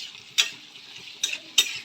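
Onion, capsicum and paneer stir-fried in a pan: a soft steady sizzle broken by three sharp scraping strokes of a spatula, close and fairly quiet, with no talking.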